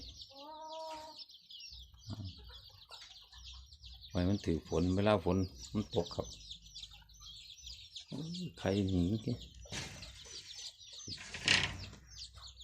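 Chickens cluck and squawk at a chicken farm with a steady high chorus of birds behind, and someone talks at length in bursts over the flock.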